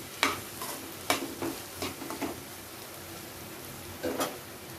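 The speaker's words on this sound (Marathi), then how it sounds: "पनीर घालून घेते, त्याचबरोबर फ्लॉवर घालून घेते. परत हे छान आपण परतून घ्यायचे." Paneer and cauliflower being sautéed in a pan: a few scraping stirs and soft clinks over a faint, steady sizzle, with quiet gaps between the strokes.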